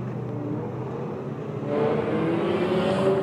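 Renault Clio Cup race cars on a formation lap at Le Mans: a steady engine drone that swells louder partway through as the cars roll past, with no talk.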